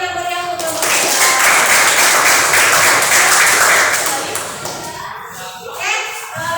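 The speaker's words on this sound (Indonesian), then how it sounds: "Beri tepuk tangan yang meriah untuk Bapak kita." Applause from a classroom audience after a group presentation: dense clapping swells for several seconds, then fades into scattered claps and children's voices.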